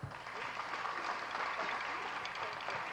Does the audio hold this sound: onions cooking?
no